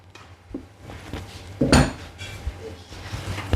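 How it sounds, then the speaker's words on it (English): A metal pizza pan is greased with olive oil, giving soft handling rustles and scattered clanks, with one louder clatter of the pan near the middle, close by and with no talking. "Now I'm gonna grease my pan with olive oil."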